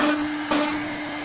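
Six-process CNC cutting machine drilling holes in panels, a loud steady whine with a sustained tonal hum and a brief surge in the middle, continuous and close.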